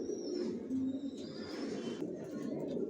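A pair of grizzle racing pigeons coo softly and steadily in a low, murmuring stream, with faint bird chirps above, heard close but quiet throughout.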